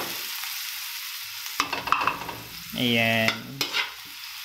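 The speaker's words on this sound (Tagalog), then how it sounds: "so ngayon magigisa lang po tayo ng sibuyas" Onion and garlic sautéing in a hot pan, a soft sizzle with a spoon stirring and scraping, plus a short burst of sound partway through; a voice speaks briefly.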